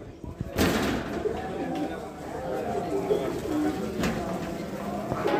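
Fancy pigeons at a wholesale pigeon market coo and flutter in a lively, continuous background, with some loud knocks and a steady rumble of activity throughout.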